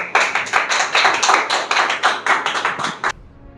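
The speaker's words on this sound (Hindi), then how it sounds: "हम परमेश्वर की महिमा के लिए तालियां बजाएंगे" A church congregation claps together to welcome the preacher during a worship service: steady, rhythmic bursts of many hands, fairly close and loud, with no talk over it, ending abruptly just before the close.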